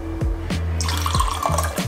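Water pours from a kitchen tap into a glass in short bursts, with several separate splashing pours and drips, close and fairly loud, with no talking.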